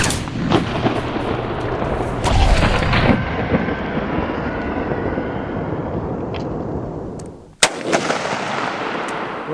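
Loud, booming gunshots from a .50 caliber Desert Eagle pistol fired at an engine outdoors, with several heavy reports early on, a long rumbling tail, and one sharp final blast followed by echoing reverberation.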